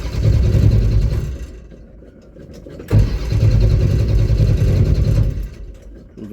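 A Dodge Challenger car engine being unloaded off a trailer revs loud and close, dips briefly, then surges again into a sustained rumbling rev before easing off.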